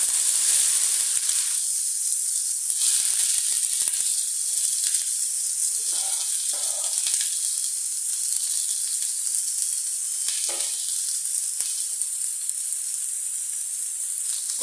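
Chopped garlic and onion sizzle in a hot skillet of olive oil, a steady, loud, bright hiss that runs unbroken throughout, with a few brief bubbling shifts along the way and no voices.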